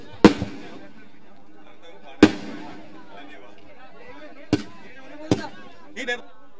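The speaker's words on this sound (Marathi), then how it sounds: "फटाक्यांची आतिषबाजी" Firework bangs at a prize ceremony: four sharp, loud explosive cracks spaced a couple of seconds apart, followed by a brief fizzing burst, with crowd chatter and voices faintly underneath.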